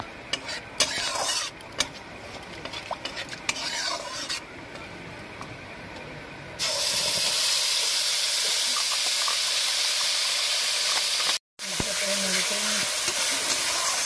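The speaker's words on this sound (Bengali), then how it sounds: "টমেটো, একটা পেঁয়াজ, টমেটো, একটু কাঁচা লঙ্কা, একটু আদা বাটা একসাথে করে নিয়েছি, পেস্ট করে নিয়েছি। এবার আমরা এটা তেলের মধ্যে দিয়ে দিচ্ছি।" A tomato, onion, green chilli and ginger paste drops into hot oil and erupts into a loud, steady sizzle that fills the rest of the clip, following quieter stirring and clatter, with one brief cutout near the end.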